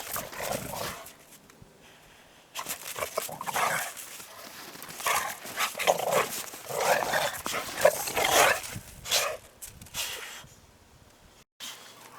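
Nine-day-old Alapaha Bulldog and American Bulldog cross puppies in a whelping box, making a cluster of soft, close whimpers and squeaks in irregular bursts, rising and fading over several seconds.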